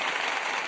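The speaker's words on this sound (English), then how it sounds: "We got that applause" Crowd applause sound effect from a soundboard add-on, a dense even wash of clapping held at steady loudness for under a second, with no voices.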